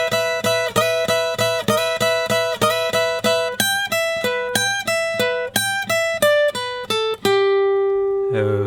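A blues guitar triplet lick on electric guitar, a quick run of evenly picked repeated notes in triplet rhythm that moves into a descending phrase and ends on a held, ringing note, close and alone.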